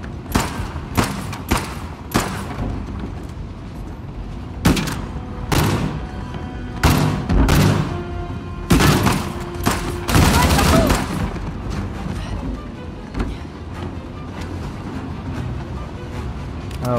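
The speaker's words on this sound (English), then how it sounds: "Oh, that's a sniper." Sniper rifle gunfire in Uncharted: The Lost Legacy, heard as a string of sharp, loud shots and thuds spaced irregularly amid other game gunfire, with some talk over parts of it.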